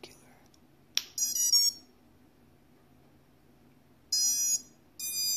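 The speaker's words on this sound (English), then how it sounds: "We're gonna look for this motor to have both sets of beeps." Short bursts of high electronic drone motor startup beeps, a quick sequence near the start and two more later, separated by quiet hum.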